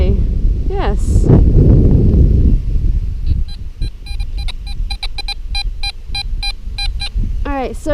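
A Fisher F19 metal detector sweeping a beach gives a series of quick, repeated high-pitched electronic beeps in short bursts, following a stretch of close talking with wind noise.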